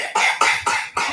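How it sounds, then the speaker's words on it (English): A person gives four sharp, evenly spaced coughs in quick succession, close and loud, with brief silences between each burst. "Don't force yourself to cough, okay?"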